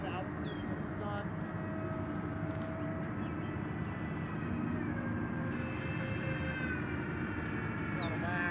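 Full-throttle pass of a radio-controlled Airbus A320 model plane, a steady broadband roar holding throughout with faint tonal whine overhead, loud and continuous.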